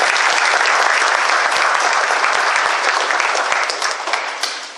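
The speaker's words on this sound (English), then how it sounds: "So let's give them a round of applause." An audience at a building dedication at Northwestern Oklahoma State University breaks into loud, dense applause, many hands clapping steadily from start to finish and easing off slightly at the end.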